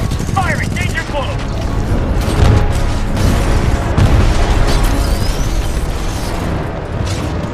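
Constant battlefield din in Titanfall 2, with booming explosions and bursts of gunfire layered thickly and loudly throughout, and soldiers shouting over the noise.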